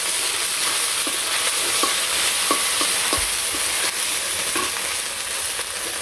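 Bay leaf, dried chili, black cumin, radhuni and ginger frying in oil in a pan, a loud continuous sizzle broken by scattered stirring scrapes, close and without talk.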